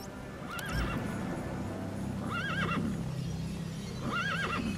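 Three whinnying neighs from a distressed horse in the video game Metal Gear Solid V ring out at intervals, each fairly loud, over a steady low rumble and faint background noise.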